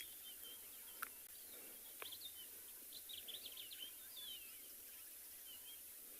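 Faint dawn birdsong drifts in from a distance in the South African bush, scattered chirps and short trills over quiet outdoor ambience.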